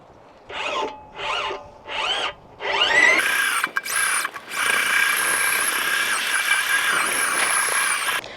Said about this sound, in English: I'm using a 9-inch auger